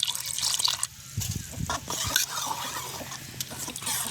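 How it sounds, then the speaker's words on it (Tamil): Wet, sloppy squelching and dripping of thick dosa batter being stirred with water, irregular soft splashes close by, with occasional faint voice in between. "இதோட நாங்கள் கொஞ்சம் தண்ணி சேர்த்து நல்ல வடிவாக குழைப்போம்"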